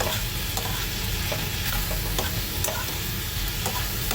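Tomato paste fries and is stirred in a pan, a close, continuous sizzle with light scraping strokes of the spoon against the pan recurring throughout.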